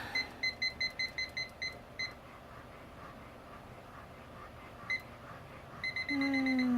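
A timer at a nursing lab practice station gives a quick run of about ten sharp, evenly spaced electronic beeps, then falls quiet. A lone beep and a final short burst follow, with a steady low room hum throughout.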